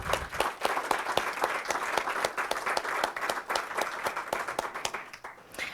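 An audience at a school board recognition meeting gives a round of applause, with steady, moderately loud clapping that fades out near the end.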